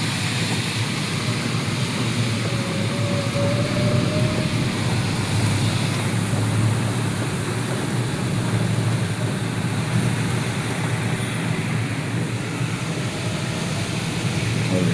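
Heavy monsoon rain pouring over Kathmandu traffic at a busy intersection, a steady dense broadband hiss that stays constant and loud throughout, with no voices.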